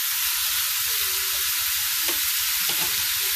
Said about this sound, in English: We'll just saute it for 1 minute